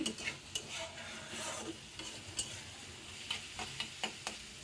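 Onion and potato frying in a pan, stirred with a utensil: steady soft sizzle under a run of sharp, irregular scraping and clicking strokes, close and fairly quiet, with no talk.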